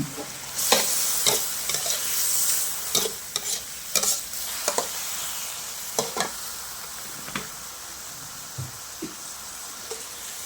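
Thai round eggplant stir-fried with Thai basil in a hot pan: loud metal spatula scrapes and knocks come at an irregular pace over a continuous sizzling hiss, then thin out to occasional taps, with no talking.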